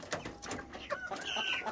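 Hens perched on a roost pole with chicks around them, giving soft, close clucks and short calls in a quick, irregular string.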